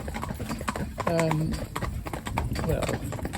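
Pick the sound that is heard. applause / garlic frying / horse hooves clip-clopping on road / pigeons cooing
horse hooves clip-clopping on road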